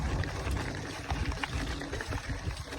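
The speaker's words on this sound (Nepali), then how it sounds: "आम्बो झरना त मरक तरिकाले बगेको छ" Ambo waterfall near Patharkot, Nepal, pouring steadily, a constant rushing wash of water that fills the whole clip without pauses, with no talking over it.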